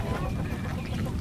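A large flock of Khaki Campbell laying ducks, about 700 birds kept on a small farm plot, quacks and honks in a dense, continuous chatter close by without pause.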